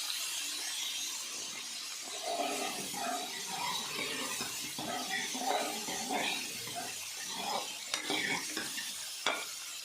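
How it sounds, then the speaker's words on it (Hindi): Onions with chili and ginger stir-fry in a pan, giving a soft, steady sizzle broken by irregular scraping and stirring of a utensil against the pan, with a couple of sharper clinks near the end. "प्याजा नरम होने तक भुना"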